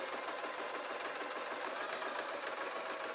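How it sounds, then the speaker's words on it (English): A sewing machine runs steadily, stitching strong thread through the fabric of a tablet sleeping bag, a fast, even, close whirring patter with no pauses. "I'm going to sew"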